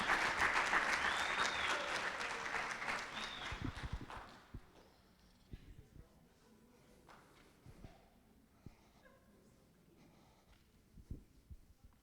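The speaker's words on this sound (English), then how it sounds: "Let's give another round of applause for our experienced speakers" Applause from an audience at a digital transformation academy session swells loudly at first, then fades after a few seconds into scattered stray claps and faint rustling.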